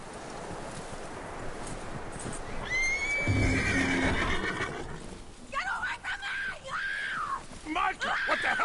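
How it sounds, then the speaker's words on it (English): A horse in a western video game gives a loud, shrill whinny followed by a few shorter neighs and snorts, heard close amid ambient game sound. "That looks like a decent horse."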